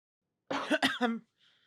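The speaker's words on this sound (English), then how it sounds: "I suddenly developed a cough" A single harsh cough, close and fairly loud, breaking into two or three quick bursts, followed by a faint breath.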